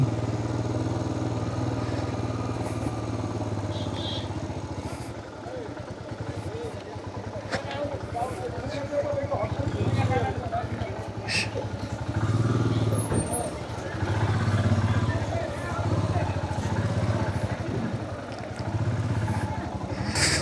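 A motorcycle rides through Darjeeling with a steady mid-pitched engine drone and road noise, while voices talk over it throughout.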